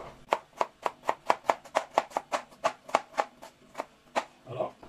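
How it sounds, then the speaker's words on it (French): Carrots are chopped into cubes on a board in a steady run of about twenty crisp, close knife strokes at an even, quick rhythm. "Alors on va les couper en carreaux."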